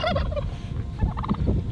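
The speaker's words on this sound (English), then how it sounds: "So welcome to our rooster yard." Roosters in a rooster yard cluster at close range, a loud run of clucking and gobbling fowl calls over steady outdoor ambience, with no talk in the brief stretch.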